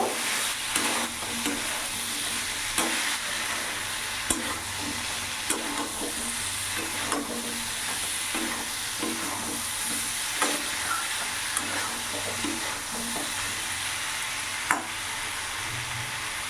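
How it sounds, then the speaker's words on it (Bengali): Fried prawns tossed in a frying pan with pumpkin and green peas, a continuous loud sizzle and hiss under repeated spatula scrapes and occasional sharp clinks against the metal. "আর ভেজে রাখায় চিংড়ি মাছগুলো দিয়ে দেবো এবার চিংড়ি মাছ দিয়ে কিছুক্ষণ নাড়াচাড়া করে নেব"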